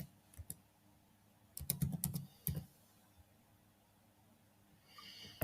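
Quiet clusters of computer keyboard keystrokes as a confirmation code is typed into an online company filing form, a few scattered taps followed by a quick run of clicks, then a pause and faint later activity.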